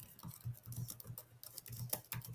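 Quick, soft keystrokes on a computer keyboard patter in a steady irregular stream, close and fairly quiet, with no speech.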